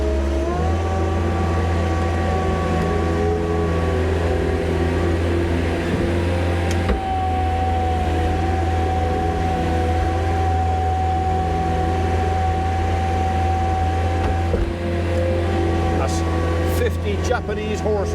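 A 49.9 horsepower Yanmar tractor engine runs at a constant, even drone close by, holding steady throughout with only slight shifts in pitch while a person talks over it.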